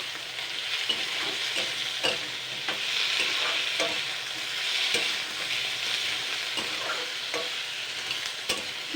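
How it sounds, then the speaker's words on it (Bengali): Fried potatoes being stirred in a hot pan with garlic and onion paste, ginger and chopped tomato, with steady close sizzling and repeated scraping clicks of a spatula through the whole stretch. "এটা দিয়ে আমি এবার আবারও নাড়াচাড়া করে নেব।"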